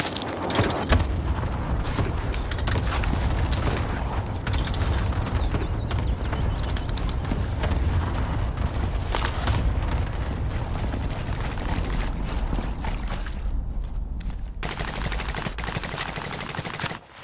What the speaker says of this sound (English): Designating target for airstrike.